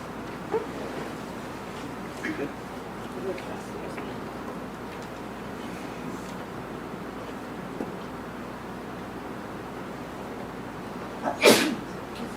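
A single sharp sneeze bursts out near the end of a school board meeting, louder than the quiet background hum and a few faint scattered noises before it.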